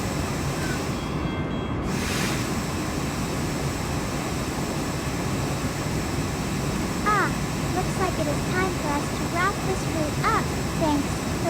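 A train runs in the Open Rails simulator with a steady, continuous rumble and hum throughout. A voice talks over it in the second half.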